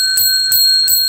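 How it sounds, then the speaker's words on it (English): A bell rings three times in steady succession, bright and sustained with a shimmering metallic tone, loud and close with no talking. "I ring the bell 10 times for 100 thumbs up."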